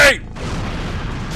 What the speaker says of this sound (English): He jumped out just as the grenade went off